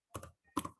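A computer keyboard clicks as a file name is typed, with two short, faint clusters of keystrokes close up and a brief pause between them, with no talking.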